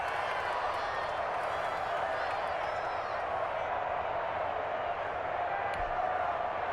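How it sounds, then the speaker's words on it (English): Stadium crowd in the Madden 21 football game, Seahawks against Dolphins, a constant broad cheering roar with faint clapping, steady and loud throughout. "the crowd getting into it as we come up on a big 3rd down"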